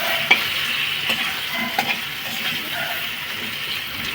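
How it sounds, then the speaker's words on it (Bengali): Ground garam masala sizzles in hot oil in a pan, a steady bright frying hiss broken by a few light spoon taps and stirring knocks, with no voices. "গরম মশলাটা গুঁড়ো করে রাখি, তেলের মধ্যে দিয়ে দিই"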